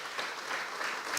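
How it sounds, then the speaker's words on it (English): Brief burst of steady clapping from an audience at a book launch at a public library, moderately close and without talk. "All right, a round of applause to Fred."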